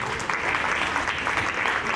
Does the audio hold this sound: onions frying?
no